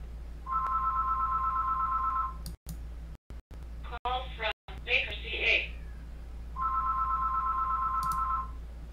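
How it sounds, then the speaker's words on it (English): A telephone rings in the background in two separate bursts of electronic trilling tone, with a gap between them holding brief clicks and other muffled sounds. "Sorry about the phone ringing in the background"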